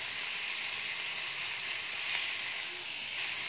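Garlic, tomatoes and salt sautéing in a pan for chicken adobo give a steady, close, hissing sizzle that runs unbroken, with no talk over it.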